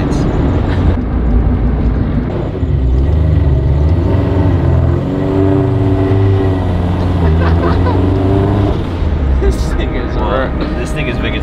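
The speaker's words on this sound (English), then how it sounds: "Did you hear that turbo for a second?" A turbocharged Scion FR-S with long-unused, crunchy parts drives in third gear around 3500 RPM, its loud, steady engine drone and road rumble filling the cabin with brief turbo flutter, while people talk over it.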